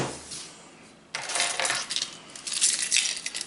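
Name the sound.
keys on a carabiner jingling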